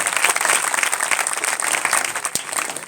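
A church congregation at the Parida Sobha 2024 sermon gathering claps in dense, continuous applause, loud and close, with no talking over it.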